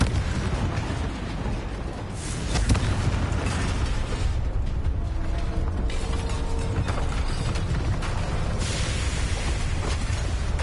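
Blasting-spell explosion in a video game: a loud burst that rolls into rumbling, crackling debris with mechanical clatter over about ten seconds. No speech.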